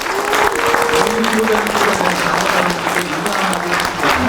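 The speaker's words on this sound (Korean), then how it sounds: "다시 한번 큰 박수 부탁드립니다." Audience applauding at a party convention as a presidential candidate is confirmed, a dense, steady wash of clapping filling the whole stretch, with a voice speaking over it.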